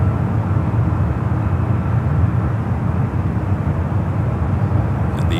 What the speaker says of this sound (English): a 344 on the clear left to take off